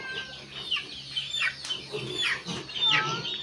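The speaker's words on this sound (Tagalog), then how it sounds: "Naghapunan na ang mga manok." Several chickens cluck and squawk nearby in a busy, overlapping chorus over a low outdoor background in the late afternoon.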